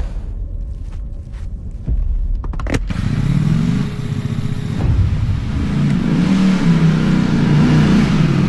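A Zontes V350 motorcycle engine, a 350 cc 2023 model, starts after a few clicks and then revs up loudly and close, climbing in pitch with throaty pulses and holding a strong roar.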